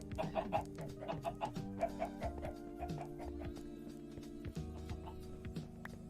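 Chickens clucking inside an underground base in the Minecraft modpack Stoneblock 2, a cluster of short repeated clucks over a steady hum of game background music, fairly quiet with no talking.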